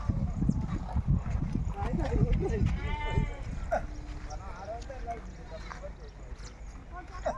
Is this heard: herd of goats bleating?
yes